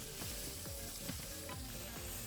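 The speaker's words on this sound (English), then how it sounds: "Add the pork belly, carrots, and onions. Fry until the pork is partially cooked." Pork belly, carrots and onions fry in a pan for Nagasaki champon, giving a steady, dense sizzle with faint scraping stirs throughout, close and continuous with no voices.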